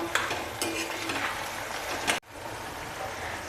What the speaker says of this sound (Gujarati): ઓળાને આપણે મિક્સ કરી અને ત્રણથી ચાર મિનિટ તેલમાં સારી રીતે સતળાવા દેશું